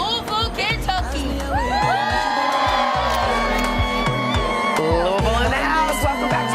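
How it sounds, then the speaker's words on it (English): A lively holiday crowd gathered outdoors on a TV studio plaza, whooping, yelling and cheering loudly and continuously, with many overlapping voices and shrill shouts rising above the din throughout. "A terrific holiday crowd out there on our plaza"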